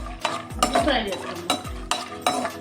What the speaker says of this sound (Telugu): పప్పు, కిస్మిస్ ఇలా ఫ్రై చేసుకొని బౌల్లోకి తీసుకున్నానండి.